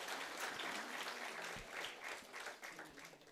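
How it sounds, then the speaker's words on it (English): A large conference audience applauds, a thick continuous roar of clapping at fairly low level that swells and eases slightly over a few seconds. "Big round of applause for Bangalore, SIRC and Nagender bhai."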